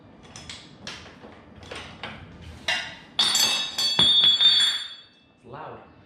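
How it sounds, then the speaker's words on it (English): A Honda Hawk 250 motorcycle drive chain slides off the rear sprocket during rear wheel removal, giving close metallic clinks, rattles and a few sharper clanks that build to a brief burst and then stop. "Go ahead and slide the chain off."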